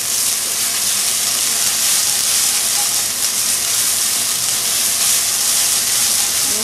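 Water poured into a hot iron pan while making pilaf, erupting into a loud, continuous hissing sizzle with steam that holds steady throughout, close and unbroken.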